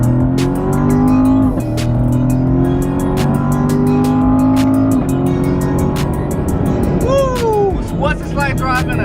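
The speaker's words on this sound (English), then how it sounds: "What's it like driving a naturally aspirated LT1 V8 pushing 460 horsepower and a C7 2019 Chevy Corvette Grand Sport?" A 2019 Chevrolet Corvette Grand Sport C7 with a naturally aspirated 460-horsepower LT1 V8 drives hard, its loud engine drone rising and falling through gear changes, with a voice talking over it throughout.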